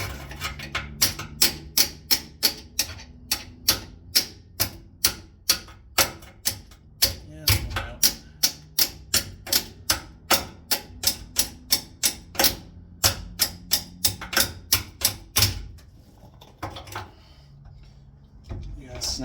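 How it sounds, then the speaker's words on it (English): A wrench used as a makeshift hammer taps a part through on a classic Ram in a home garage, delivering a long run of sharp, evenly paced metallic knocks, close and loud, that stop abruptly near the end. "Can I just tap that through? I use a garbage wrench when I have real hammers around."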